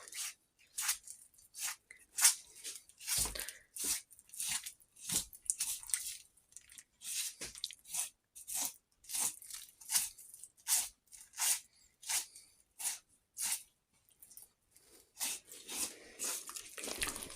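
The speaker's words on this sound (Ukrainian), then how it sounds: "Я ось тут зараз обрізаю ось оці жирок перетопить." A knife slices fat off freshly butchered Vietnamese pig meat in rapid, regular strokes, each a crisp, squishy cut close by, repeating steadily with brief pauses.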